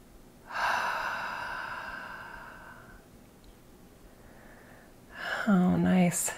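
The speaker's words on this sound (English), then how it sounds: "let's take some nice deep breaths here" Slow, deep breathing during a guided relaxation session: a long audible inhale, a softer exhale, then another deep breath in, close and clear with no words spoken.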